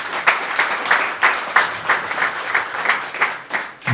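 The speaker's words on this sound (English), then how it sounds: "Give Conor a big round of applause." Audience clapping for boxer Conor Coyle at a press conference in Derry: a short, moderate burst of applause with a fairly even, pulsing rhythm of many hands, heard from the room without speech.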